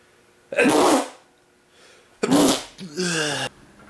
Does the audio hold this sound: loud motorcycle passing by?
no